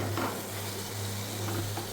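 Chopped tomatoes frying in a pan while being stirred with a spatula: a steady, close sizzle runs throughout with faint scraping strokes and a low hum beneath, and no one speaks.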